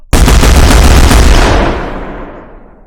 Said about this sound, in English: now that we have a heavier gunshot sound